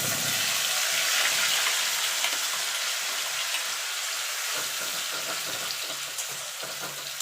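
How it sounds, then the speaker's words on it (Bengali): Spice masala sizzles and crackles in hot oil in a pan, a steady, close frying hiss with occasional stirring scrapes. "মশলাটা একটুখানি ভাজা ভাজা করে নেব"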